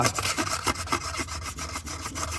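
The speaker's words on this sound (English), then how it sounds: "you want to clean the mating surface. You can take a little sandpaper and just clean it off" Sandpaper rubs the water pump mating surface on a 2014 Ford F150 EcoBoost in quick, close, rhythmic scratchy strokes, with about a dozen back-and-forth passes.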